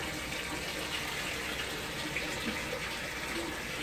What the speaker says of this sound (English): I'm going to put this washer real quick on a drain spin